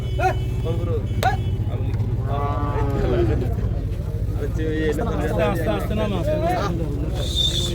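Cattle low at a Bangladeshi Eid sacrificial animal market, with several deep, drawn-out moos over a steady crowd hubbub and a constant low engine-like drone.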